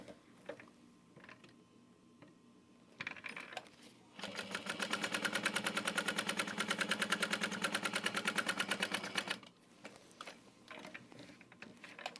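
Sewing machine stitching a bucket bag, a steady fast rhythmic whir of the needle running for several seconds, close and loud, framed by quieter handling sounds before and after.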